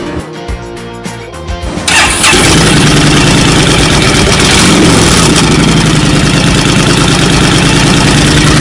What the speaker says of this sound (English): So this motor is a 1300cc liquid cooled shaft drive fuel injected motor,